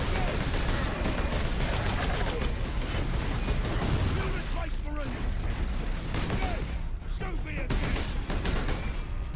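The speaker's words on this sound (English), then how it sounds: "I will shoot you again. That's what this game's about. Shooting you." Continuous gunfire in the Warhammer 40000 Space Marine video game, dense rapid shots and bursts layered with game effects, loud and unbroken throughout with a voice talking over it.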